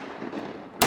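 A single sharp shotgun blast rings out near and loud during a waterfowl hunt, a sudden broadband crack following a stretch of quiet outdoor ambience.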